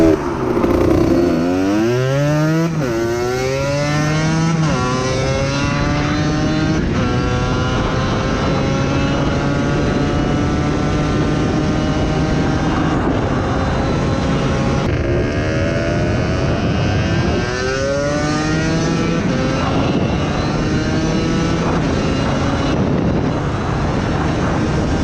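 Kawasaki KDX 125 two-stroke dirt bike engine revving loudly and continuously, with repeated rising and falling throttle blips producing a raspy, buzzing note close by, no talking.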